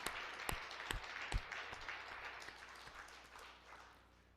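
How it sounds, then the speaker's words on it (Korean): A church congregation at a founding-anniversary Sunday service applauds, with a few sharp, close claps standing out over a scattered round of clapping that gradually fades. "한번 박수 인사하시겠습니다."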